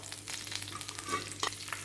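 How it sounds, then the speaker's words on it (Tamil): Urad dal, garlic, green chillies and shallots fry together in a pan for cucumber chutney, giving a steady soft sizzle with light stirring scrapes and a brief sharper clink near the end. "இது எல்லாத்தையும் போட்டு ஒன்றா வறுத்துக்கலாம்."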